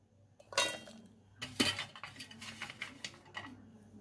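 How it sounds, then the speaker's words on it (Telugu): A knife working through coconut pieces on a cutting board for coconut chutney, soft clinking chops and taps in two clusters, close and quiet, with no talking. "ఈ కొబ్బరి ముక్కలన్నీ నేను కోసేస్తున్నాను"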